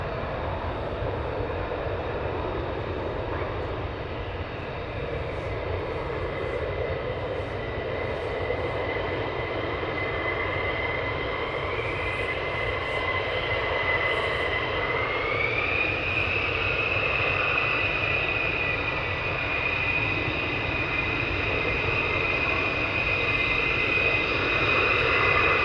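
Fighter jet at RAF Lakenheath: a continuous distant jet engine roar with a rising whine that climbs partway through and holds, steady and moderately loud, heard alone without voices.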